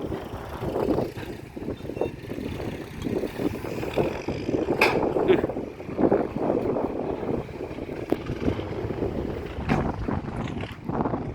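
Strong wind buffets the microphone outdoors at a construction site where fill is being dumped, a steady loud broadband rush with gusting swells and a few sharp knocks, no speech.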